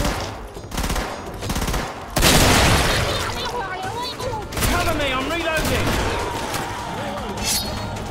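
Shotgun blasts from the Killing Floor boomstick in a video game, a sharp loud report after a quieter opening, followed by ringing effects and game sounds, with speech mixed in.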